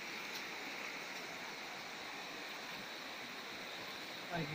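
The Andalas River flows through a forest plantation in a steady, close rushing wash of water that holds constant throughout, with a brief bump near the end.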